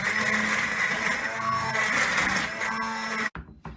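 A hand blender blitzing soup whirs loudly and steadily for about three seconds, then cuts off abruptly, followed by a couple of faint clicks.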